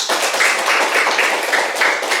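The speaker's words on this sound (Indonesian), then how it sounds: "Tepuk tangan dulu untuk semuanya" A classroom group applauds the participating student groups, a steady patter of many hands clapping together for a couple of seconds, close and fairly loud.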